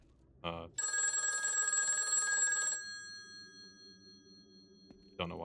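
An old-style telephone bell rings in one sustained metallic burst lasting about two seconds, then fades with a lingering hum, with brief voice sounds before and after.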